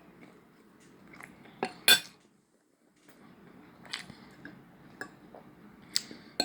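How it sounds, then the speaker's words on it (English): Scattered light clinks and taps of cutlery against dishes while eating breakfast sausages, irregular and close, with one sharper clatter amid quiet room noise. "I'm also eating my breakfast. I'm eating my nice sausages"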